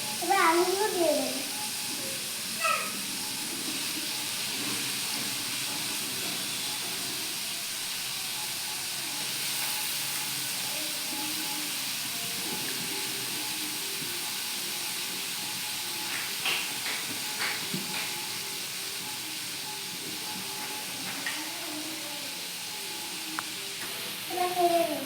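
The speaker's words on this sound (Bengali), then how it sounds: "তেলটা গরম হয়ে গেছে, এবার আলুগুলো দিয়ে দেবো।" Potatoes fry in hot oil in a village kitchen, giving a steady close hiss and sizzle throughout with some faint talking in the background.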